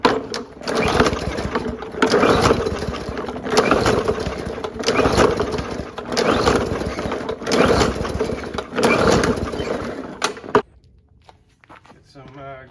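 Lawn mower engines on free mowers, freshly primed, are pulled over repeatedly, giving rhythmic bursts of cranking and sputtering that stop abruptly near the end; a person talks throughout.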